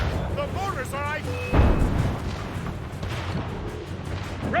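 Ship mortar fire in Assassin's Creed Rogue lands as a single heavy, deep boom that rumbles and fades, with crew voices calling out over steady battle ambience around it.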